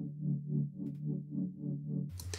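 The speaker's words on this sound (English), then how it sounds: "this main chord patch is actually really just a massive kind of super saw sound" Massive layered super saw synth chord patch in a future bass track, pulsing in a steady wobbling rhythm as an auto filter sweeps it, with a brief bright noisy burst at the end.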